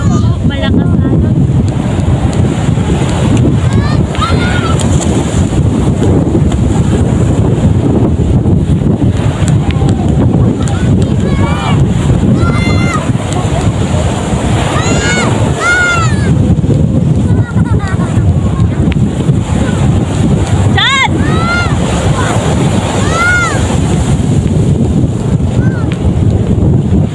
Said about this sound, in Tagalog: Ito na to eh. Malakas na alon.